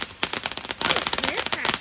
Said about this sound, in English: Oh, it is crackling.